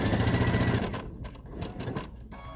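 A sewing machine stitches a curved section of a Double Wedding Ring quilt in a fast, buzzy burst, then slows into a few separate, uneven stitch pulses.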